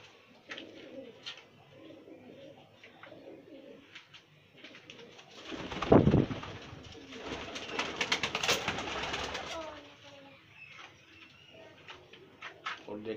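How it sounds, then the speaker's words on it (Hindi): Pigeons in a loft cooing softly and repeatedly, with a burst of wing flapping and scuffling partway through. "और देखें हमारे कबूतर,"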